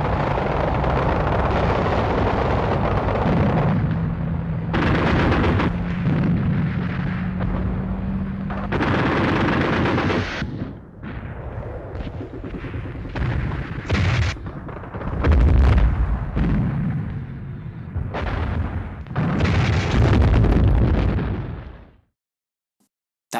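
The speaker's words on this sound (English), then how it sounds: "The Piat anti-tank projector, British hard-hitting secret weapon which has been in use for about a year, is demonstrated for Army cameramen." A British PIAT anti-tank projector fired in battle scenes from a 1946 war film, with heavy booms and bursts of explosions and gunfire under a constant loud rumble of combat.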